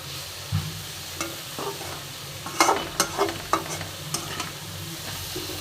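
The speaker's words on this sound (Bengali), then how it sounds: "এবার আবার একটুখানি নেড়ে নেবো।" Spinach and flat beans frying in a wok, stirred with a spatula: bursts of scraping and clattering over a steady sizzle, close and loud, with no talking.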